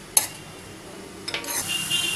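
Capsicum, garlic and vegetables being sautéed in a pan for pizza topping: a faint sizzle with a couple of brief scraping stirs, quiet and close.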